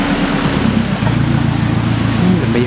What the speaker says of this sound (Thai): นี่มีเสียงน้ำตกส่วนซาซาเลยนะ